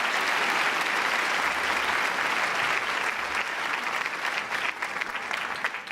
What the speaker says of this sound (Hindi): तो आप सभी तालियां बजाकर उनका स्वागत कीजिए।